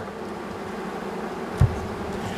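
Honeybees at an open hive in a colony thought to hold two queens and a single drone, buzzing as a steady low hum with one brief louder thump partway through.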